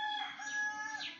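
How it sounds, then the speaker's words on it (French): Rooster crowing once, a clear drawn-out call heard alone at moderate distance in an otherwise quiet setting. "Ah, cocorico est là."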